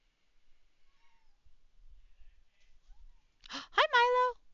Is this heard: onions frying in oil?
no